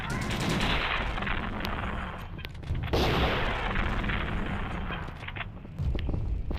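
Tank cannon and heavy gunfire in the video game Payback 2, a dense, continuous barrage of booming shots and crackling fire that stays loud throughout, with brief surges of blasts.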